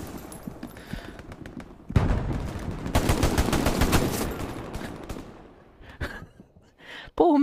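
Gunfire in the video game Hell Let Loose, with bursts of rapid automatic shots and scattered single cracks at varying distances, dense and loud through the middle before tapering off, then a sharp burst at the end.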